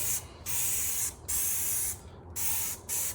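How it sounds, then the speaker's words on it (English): Several quick, hissing sprays of Dawn Powerwash from a spray bottle, four bursts in a row with short pauses between, close up and fairly loud. "So for the first one, I'm just going to spray it on here"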